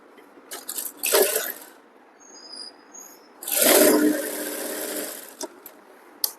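A sewing machine stitches piping onto a blouse in two runs, a short burst first and then a longer, steadier whir, with quiet pauses between.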